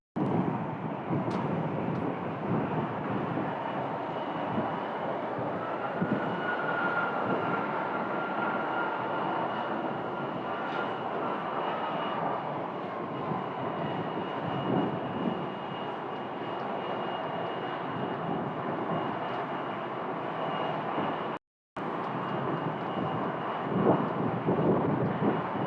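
Airliners on final approach into Phoenix Sky Harbor Airport, a steady broadband jet roar holding loud and constant throughout, with a brief drop to near silence toward the end before the engine noise resumes.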